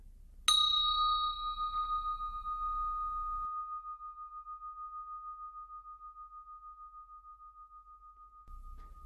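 A meditation bell struck once, ringing out clear and pure, then sustaining a long, slowly fading tone for several seconds in an otherwise quiet setting.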